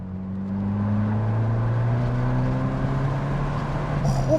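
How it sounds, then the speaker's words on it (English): An Abarth 695C Rivale's exhaust growls steadily as the small car accelerates in third gear at the national speed limit, a continuous low engine drone rising slightly in pitch, loud and close throughout. "I do rather like this exhaust"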